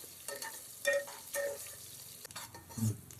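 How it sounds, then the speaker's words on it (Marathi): Chopped onion frying in a pan for a Kokan-style jackfruit vegetable dish, a soft close sizzle broken by brief scraping stirs and light clinks of a spoon against the pan. "आता हे चांगलं आपण फ्राय करून घेऊया."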